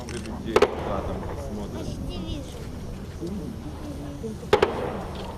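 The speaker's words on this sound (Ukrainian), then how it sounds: "І знову в пам'ять про загиблих відбувся салют із стрілецької зброї." Two sharp small-arms volleys fired as a memorial salute at an outdoor ceremony, the first early and the second about four seconds later, each a tight cluster of cracks over a low crowd murmur.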